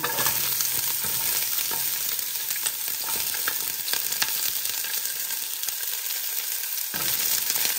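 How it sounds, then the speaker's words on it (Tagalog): Garlic and onion sauté in a hot pan with ginger nearby, a loud, steady close sizzle with scattered crackles and a brief dip near the end, no voices. "Gisa po natin ating garlic at onion."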